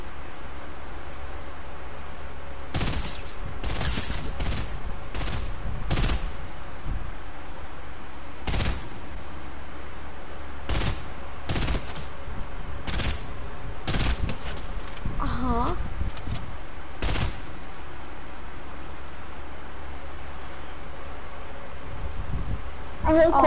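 Fortnite solo match gunfire: a series of sharp single shots and short bursts at irregular intervals, loud and close, over faint background game noise, with some talk in between.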